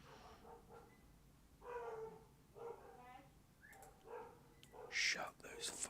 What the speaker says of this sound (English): Shut those fucking dogs up.